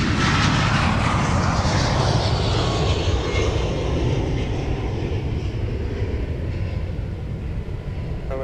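A jet airliner takes off from Minneapolis–St. Paul airport, a loud, broad engine roar that slowly fades and recedes into the distance over several seconds, with no talk.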